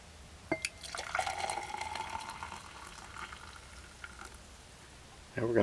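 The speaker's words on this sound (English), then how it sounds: "we're going to pour this vinegar in." Vinegar is poured into a hot pan just off the boil, giving a close, brief liquid splash and sizzle followed by soft dripping and bubbling, with a louder clatter at the end.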